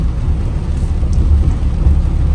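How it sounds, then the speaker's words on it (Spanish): Steady, dense rain pours down at Lago Dos Bocas, a reservoir by a hydroelectric plant in Puerto Rico, a loud unbroken hiss with deep low rumble and no voices. "por aquí nos cogió la lluvia."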